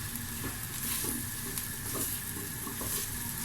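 Meat and peppers sizzle and crackle loudly in a hot pot over high heat, a steady frying hiss with occasional stirring clatter.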